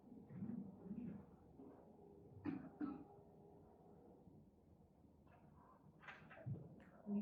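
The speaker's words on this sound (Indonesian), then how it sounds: "Saya kok agak batuk-batuk." Coughing and throat clearing from a person in a classroom setting, with a few short bursts spread through the clip at moderate volume, alone without speech.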